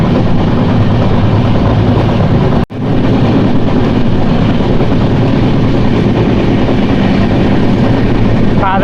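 Garib Rath express train from Yesvantpur to Charlapalli running at speed, a loud steady rumble of wheels and carriages heard from on board, with a brief dropout near the start.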